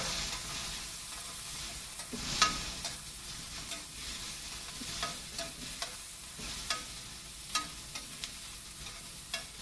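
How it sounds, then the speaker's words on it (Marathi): Ridge gourd, onion and coriander stems being stirred in a pan with a soft, steady sizzle and repeated light scraping taps of a spoon, fairly quiet and close, with no talking. "आता हे एवढं सगळं आपलं झालं की याला असं छान ढवळून घ्यायचं"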